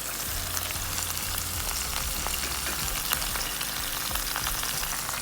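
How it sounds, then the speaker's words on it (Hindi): Two medium chopped onions frying in oil in a pan, giving a constant crackling sizzle with small pops, close and even throughout, with no talking. "अब मैं इसमें डाल दूँगी 2 मीडियम प्याज कटे हुए इसी ऑयल में।"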